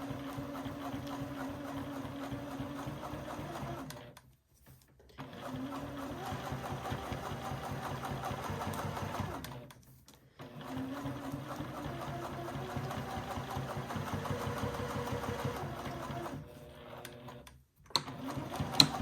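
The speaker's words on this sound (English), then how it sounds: "stitch and then back stitch, right?" A sewing machine runs in long bursts as it stitches and back-stitches a seam, its rapid rhythmic clatter stopping briefly twice between runs, fairly quiet and close.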